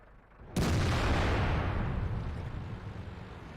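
A single deep, loud cannon boom from the SU-122-44 tank destroyer in World of Tanks, a sudden blast followed by a long rumbling decay that fades over a few seconds.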